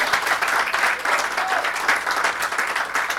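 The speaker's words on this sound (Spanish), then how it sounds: "Denle un aplauso al Señor." A church congregation bursts into sustained applause, dense and steady clapping filling the space from start to finish, with a few voices faintly mixed in.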